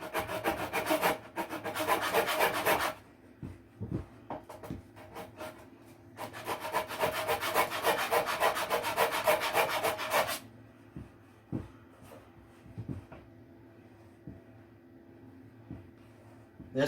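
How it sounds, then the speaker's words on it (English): Wood of an 8-inch ported subwoofer box is sanded by hand in two long bursts of rapid back-and-forth rasping strokes, close and fairly loud, separated by quieter handling taps and knocks. "So what we need to do is actually sand that down."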